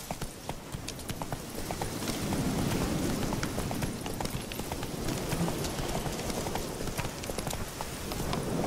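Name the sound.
horse hooves galloping in video game The Witcher 3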